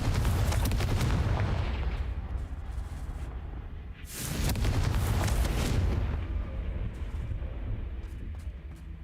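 Confringo explosive spell blasts in the game Hogwarts Legacy, two heavy booming bursts about four seconds apart, each followed by a rumbling tail, loud and close with no talking.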